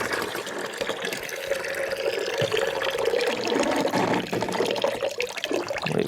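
Water drains from a Wonder Wash hand-cranked clothes washer through its drain nozzle in a steady, close gushing and splashing stream that goes on without interruption and without voices.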